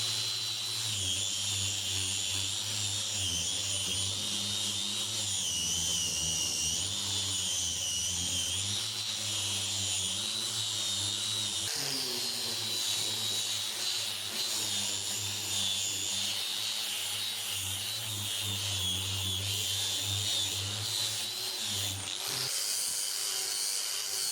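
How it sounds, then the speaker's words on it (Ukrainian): A power sander with a fine 150-grit disc grinds and polishes a wooden board for a grilling platter, a continuous high whine with shifting pitch as pressure changes, then a brief drop near the end. "Тепер беремо дрібнозернистий шліф-кружок у нас 150 номера та шліфуємо, поліруємо"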